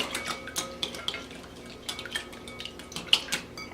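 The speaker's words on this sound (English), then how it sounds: "Whisk or use your fork to mix up your egg a little bit." A fork whisks egg and orange juice together in a bowl, giving quick, light clinks and soft liquid splashes in an irregular rhythm, close by with no talking.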